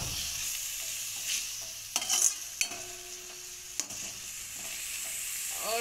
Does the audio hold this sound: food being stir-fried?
yes